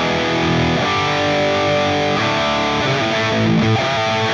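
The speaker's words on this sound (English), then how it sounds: "It's Orange Rock Reverb 50 Mark II." Electric guitar played through a Tonex One preset modelled on an Orange Rock Reverb 50 Mark II high-gain amp with an Orange 4x12 cabinet: a loud, thick, distorted tone with sustained chords and riffs throughout.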